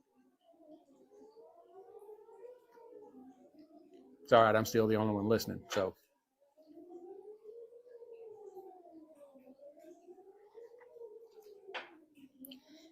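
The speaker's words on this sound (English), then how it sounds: "You may be able to hear that in the background. Testing the tornado sirens." A distant tornado siren under test wails up and down continuously in the background while a person speaks briefly in the middle.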